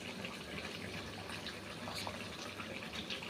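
Hot water pours into a simmering chicken curry as a faint, steady gushing splash with no other sounds over it.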